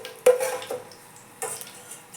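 Curry leaves fry in a pan, with a few sharp scrapes and knocks of a spoon against the metal set over a faint, thin sizzle, near and otherwise quiet.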